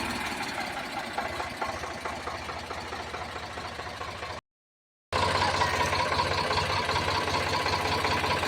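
An Eicher 368 tractor with a Ricardo engine idles steadily nearby, a loud, even diesel chug with a brief dropout midway before the rumble resumes unchanged.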